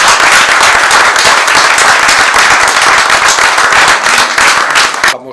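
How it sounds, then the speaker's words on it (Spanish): A crowd of listeners at a book reading claps together in a loud, dense burst of quick, sharp claps that holds steady for several seconds before cutting off abruptly. "Incluso le vamos a dar un aplauso."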